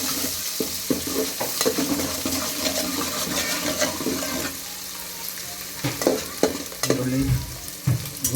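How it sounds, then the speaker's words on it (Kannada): Finely chopped onions and curry leaves fry in hot oil for a fish sambar with a steady, close sizzle, broken up by scraping stirs and louder spatters toward the end. "ಎಣ್ಣೆ ಚೆನ್ನಾಗಿ ಕಾದಿದ ನಂತರ ಫಸ್ಟು ಈರುಳ್ಳಿ ಹಾಕಿದ್ದಾರೆ, ಸಣ್ಣದಾಗಿ ಕಟ್ ಮಾಡಿ ಇಟ್ಕೊಂಡಿದ್ದೆ ಈರುಳ್ಳಿ ಮತ್ತು ಸ್ವಲ್ಪ ಕರಿಬೇವು ಹಾಕಿದ್ದಾರೆ"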